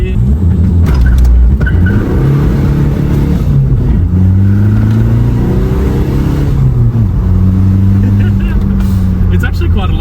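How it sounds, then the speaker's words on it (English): Tuned diesel car with launch control, stock otherwise like a 1.9 TDI, pulling away hard from a stop sign: a loud, close engine drone rising steadily in pitch through several gear changes. "This car is programmed with launch controls too, so I can demonstrate that at this little stop sign here."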